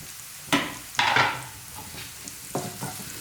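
Egg fried rice ingredients with spring onion stalks being stirred in a pan, four distinct scraping strokes over a quiet sizzle, close and fairly loud.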